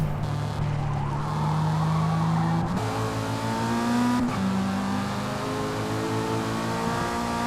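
A Mazda race car in the racing game Forza Motorsport, its engine droning steadily and loud with pitch shifting as it shifts gears, with faint tire noise throughout.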